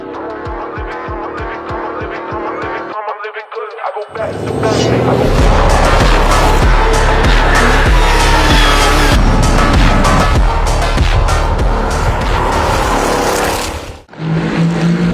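A Ford Mustang Dark Horse revs and accelerates hard on a race track, engine roaring loudly with a rising pitch and tires squealing, ending in a sudden drop.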